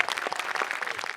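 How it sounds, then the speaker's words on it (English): Audience applause at a television drama cast Q&A panel, a short dense burst of clapping held steady at moderate loudness throughout. "Yes, you can applaud and cheer."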